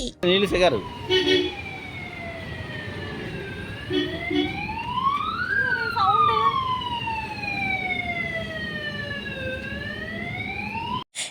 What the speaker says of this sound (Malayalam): ഈ ആംബുലൻസ് വരുന്നതിൻ്റെ സൗണ്ട് ആ എ ടി എമ്മിൽ നിന്ന് നല്ല ഒച്ചത്തിൽ കേൾക്കുന്നത്